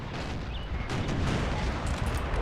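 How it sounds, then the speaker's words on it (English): Artillery duels during a siege of Vienna in Napoleon Total War, booming cannon shots and rumbling blasts layered over a dense battle din, heavy and continuous. "The artillery here still dueling away"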